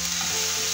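Fish and peppers fry in a hot pan as they are stirred, giving a steady close sizzle with faint scraping of the stirring, no talk.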